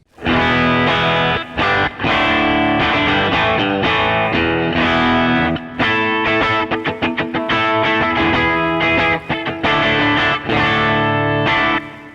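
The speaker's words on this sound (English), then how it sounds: "But when it does overdrive, it sounds like this" Overdriven electric guitar through a 1968 Fender Twin Reverb amp playing loud, thick distorted chords and riffs with a few brief pauses, saturated tube-amp crunch throughout.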